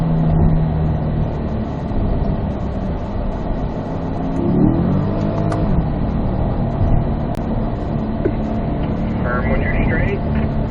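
A C8 Corvette accelerates and upshifts on a race track. Its engine drones steadily and rises in pitch through the gear changes, heard from inside the car beneath an instructor's voice.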